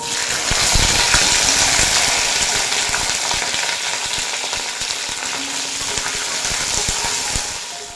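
Okra fries in hot oil tempered with dried red chili, a loud, close, continuous sizzle with scattered crackles and spatters that eases slightly toward the end.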